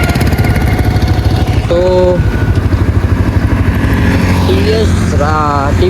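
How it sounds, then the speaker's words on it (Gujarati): A TVS motorcycle is ridden along a highway, its engine droning loud and close with an even, steady throb, while the rider speaks briefly over it. "ટીવીએસ બાઇક"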